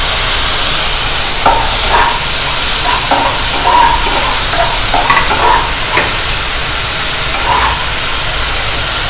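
Onions frying in a small amount of oil in a pan for egg vermicelli upma, giving a loud, steady sizzle with repeated spatula scrapes and stirring strokes throughout.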